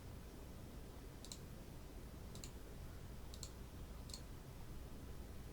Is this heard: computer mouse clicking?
yes